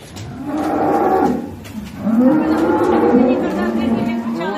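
Cows moo close by, two long low bellows one after another, with some chatter and farmyard noise around them.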